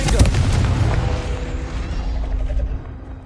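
A Confringo blasting spell bursts in Hogwarts Legacy, a loud deep rumbling explosion that fills the whole moment and tails off near the end.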